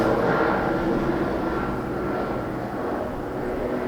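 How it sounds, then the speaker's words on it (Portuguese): A low, steady engine drone of a helicopter rumbles overhead, fairly loud and constant with no talking. "É só um helicóptero."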